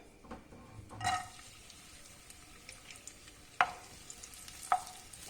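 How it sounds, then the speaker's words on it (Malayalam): Raisins frying in a pan of hot fat for aval payasam give a soft continuous sizzle, broken by a few sharp clinks of a spoon or pan, close and fairly quiet. "ഇനി നമുക്കിതിലേക്ക് കുറച്ച് കിസ്മിസ് ഇട്ട് കൊടുക്കാം"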